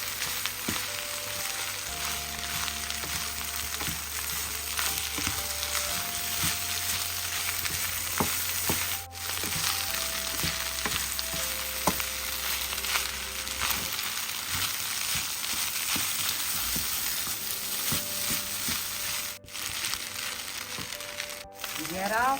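Restaurant-style prawn fried rice frying and being stirred in a pan makes a continuous crackling sizzle with occasional scraping and stirring clatter, close up and steady throughout.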